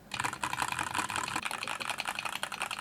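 Steady, dense keyboard typing over a desk mat on a slightly hollow desk, a quick run of close clicks and clacks with a faint wooden resonance underneath.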